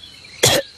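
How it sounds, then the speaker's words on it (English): A cartoon character coughs in two short, sharp bursts, the first clear and loud, the second starting just as the sound ends. "Gaston's coughing."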